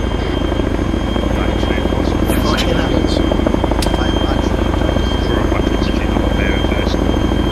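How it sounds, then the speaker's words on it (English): Helicopter in the military game Arma 3, its loud rhythmic rotor thump and engine drone close and continuous throughout, with brief sharp effects layered on top. "Stand by to get on that chopper as soon as it's portable."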